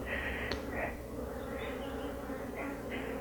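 Honey bees buzzing around hive frames, a close, continuous drone with individual bees swelling louder as they pass near.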